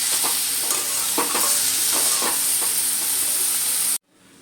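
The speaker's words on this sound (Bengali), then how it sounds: "এখানে একটা প্লেটের মধ্যে আমি ঢেলে নিচ্ছি" Fried spinach scraped and poured from a hot pan onto a plate, a dense steady sizzle broken by scraping clatters that cuts off abruptly, leaving near silence.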